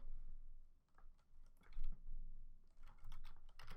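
Quick, light key taps come in uneven bursts from a computer keyboard being typed on nearby, with brief pauses between runs.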